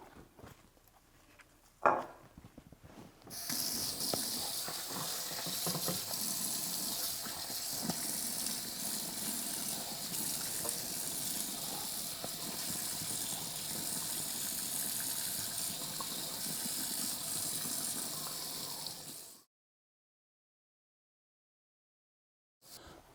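Cleaned fish rinsed under a running kitchen tap, a steady close rush of water splashing for about sixteen seconds before it stops abruptly, with a brief knock near the start.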